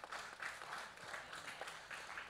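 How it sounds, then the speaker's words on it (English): A church audience at a sermon claps in a short, faint round, the individual hand claps loosely pulsing at an even rhythm with no talk over it. "you can clap for that."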